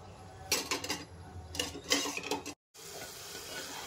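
Peanuts stirred in hot oil for a raw mango rice tempering give a soft sizzle with bursts of scraping and rattling against the pan, close by, a brief dropout near the end, no talk.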